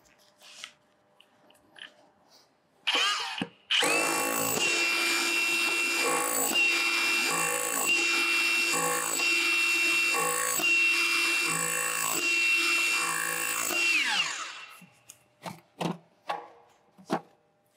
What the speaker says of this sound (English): Cordless breaker.